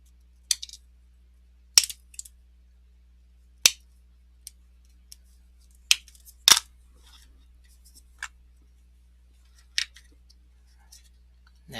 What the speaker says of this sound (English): I need to trim away a little more here.